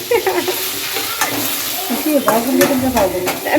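Tomatoes frying in a pan for sweet corn masala, a steady sizzle with stirring scrapes and clinks throughout, close and fairly loud, with faint background voices at times.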